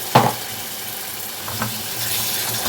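Spice paste with green chili and a splash of water frying in a pan for fish curry, a soft sizzle with a couple of scraping stirs of the spoon, close and alone.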